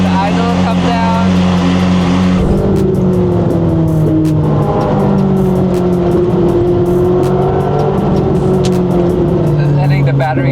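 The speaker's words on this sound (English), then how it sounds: "Let the idle come down." A Ferrari 550 or 458 engine idles close by with a steady low hum, its pitch settling lower as the idle comes down after a hard start on a weak battery.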